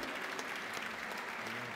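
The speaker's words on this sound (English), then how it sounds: "And please give Mr. Sakamoto and José Luis a big round of applause" A crowd at a stage event for Metroid: Samus Returns developers bursts into applause, dense continuous clapping at a fairly soft level that lasts the whole moment without speech.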